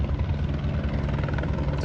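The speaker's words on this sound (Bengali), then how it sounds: "দেখুন উপর থেকে হেলিকপ্টার দিয়ে" A police helicopter drones steadily overhead above a river, its low rotor thump and engine roar filling the whole stretch with no voices.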